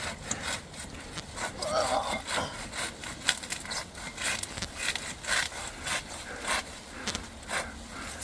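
Hand saw working through a fallen tree blowdown on a hiking trail, a steady rasping back-and-forth stroke rhythm of blade on wood, close and moderately loud, with occasional sharper crackling as the trunk gives.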